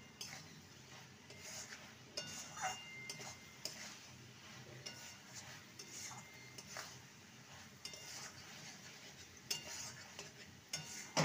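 Radish ghonto with ghee stirred in a pot, with faint clinks and soft scraping of a spoon in loose, repeated strokes over a low sizzle, quiet and close.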